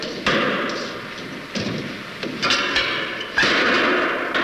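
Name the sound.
wood being put into the fire, thumping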